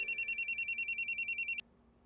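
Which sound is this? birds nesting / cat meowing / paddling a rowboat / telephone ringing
telephone ringing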